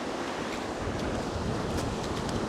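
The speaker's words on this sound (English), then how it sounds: "So while the waves are receding" Broad, steady wash of ocean surf receding on a sandy beach while fishing, a close, continuous hiss and rumble with light wind, no voices.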